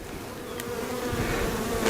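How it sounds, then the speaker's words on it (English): Dense, steady buzzing of many honey bees close by during a hive inspection, a warm droning hum that grows slightly louder toward the end. "Got a bunch of bees in here."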